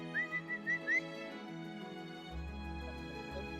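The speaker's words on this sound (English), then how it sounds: "every time I feed them, I whistle" A person whistles five quick, bright rising notes in a row to call tawny owls, close and clear, followed by quiet.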